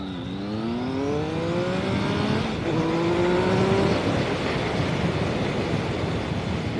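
A 2017 Triumph Speed Triple 1050 motorcycle being ridden on the road, engine droning steadily and rising in pitch through gears, with loud continuous wind rush and no talk.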